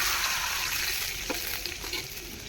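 Steady sizzling fills the clip as water hits a hot pan with ghee, for rice dumplings, with faint stirring scrapes, loud and close.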